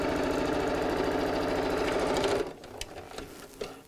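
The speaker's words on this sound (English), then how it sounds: "I'm going to sew down this end first, just because I find it easier to do that" A sewing machine stitches autumn cushion fabric with a fast, even mechanical whirr for about two and a half seconds, close and loud, then stops abruptly, leaving faint handling noises.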